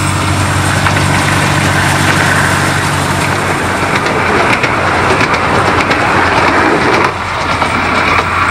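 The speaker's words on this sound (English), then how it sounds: "that's the diesel powered engine, that one" A diesel-powered light railway locomotive on the Cleethorpes Coast Light Railway idles with a steady, dense mechanical rumble and hiss, close by and unbroken throughout.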